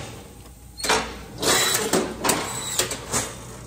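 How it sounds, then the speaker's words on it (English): A strapping machine binds a package in a closet-making shop, giving a mechanical whir and several sharp clunking bursts at close range, with no voices. "Let me show how easy it is with the strapping machine."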